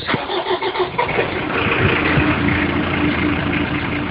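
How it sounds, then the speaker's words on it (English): A car engine cranks and catches, then settles into a steady, loud idle that continues to the end, heard close up from inside or beside the vehicle with no talking. "Let's hope the car starts."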